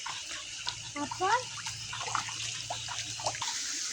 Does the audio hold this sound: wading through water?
yes